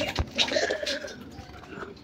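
Domestic pigeons kept for egg laying coo softly in short, close murmuring bursts with a steady low background, no talking.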